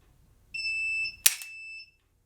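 A shot timer gives a single electronic start beep, a clear steady tone of about a second and a half, nearby and alone. A sharp snap from a dry-fire laser shot cuts in partway through.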